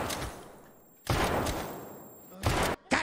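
Loud bursts of gunfire in the video game Escape from Tarkov during a boss fight: three separate blasts of shooting, each a short, harsh volley up close, separated by quieter gaps.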